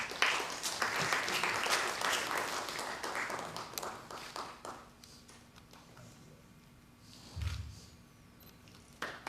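Audience applause at a formal ceremony in Trinidad and Tobago, a dense burst of clapping that fades out after about five seconds into quiet room tone with a faint thump later.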